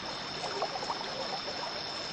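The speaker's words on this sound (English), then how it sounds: "The rushing water took the boat into the middle of the river." Quiet, steady wash of flowing river water, a faint continuous hiss with soft gurgles near the middle and no voices.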